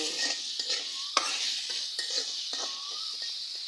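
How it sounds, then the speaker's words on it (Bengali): Onions frying with salt in a pan hiss steadily while a utensil stirs and scrapes repeatedly in a loose rhythm, with one sharp clink of metal, close and loud without talk. "পেঁয়াজটা কিন্তু হালকা ভাজা ভাজা হয়ে গেছে।"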